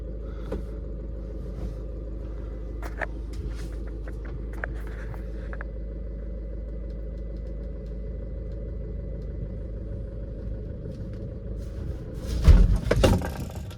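A car engine runs steadily while driving, a low constant rumble inside the vehicle with a few faint clicks early on and a brief louder thump near the end.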